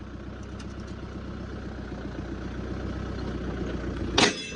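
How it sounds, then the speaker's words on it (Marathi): A tractor engine runs steadily nearby, a low, even rumble with a faint rhythmic chug that holds throughout, with a brief sharp clatter near the end. "फायनली दोन्ही ट्रॅक्टर निघले तर आता बसलो ट्रॅक्टरवर आम्ही"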